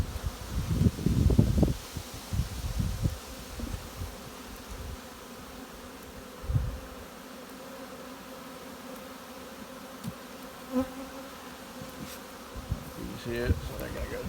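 Honeybees drone steadily at an opened hive in a colony with laying workers, a continuous close hum with a few louder handling rustles and bumps near the start.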